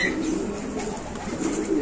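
Pigeons coo close by in soft, low, throaty rolling calls that continue through the moment over faint background noise.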